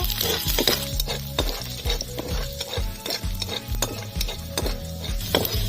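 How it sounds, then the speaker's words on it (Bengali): Whole cumin and chopped garlic frying in a pan, stirred with a utensil that gives repeated close scraping and clinking strokes over a steady sizzle, with no voices. "দিয়ে দিলাম গোটা জিরে রসুন কুচি অল্প নাড়াচাড়া করে নেব"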